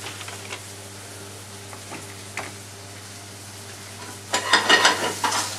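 Onions cook in a pan for butter chicken: a quiet stretch of faint ticks and light clinks, then a louder burst of sizzling and crackle near the end.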